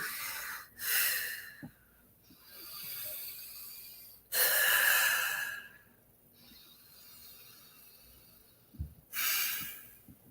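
Slow, deep breaths taken with eyes closed, heard as several long airy inhales and exhales close to the microphone, separated by quiet pauses.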